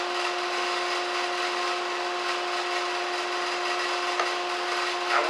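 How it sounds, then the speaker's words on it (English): A table saw makes an edge trim cut in wood during a shop cabinet build. A steady, loud whine and rasp run evenly for about five seconds with no voices. "That edge trim is probably the dirtiest cut that you can make on a table saw."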